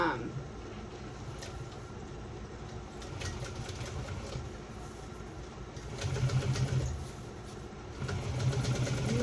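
A sewing machine stitches vinyl on a shoulder bag in a steady mechanical whir that speeds up near the end, heard under a person talking.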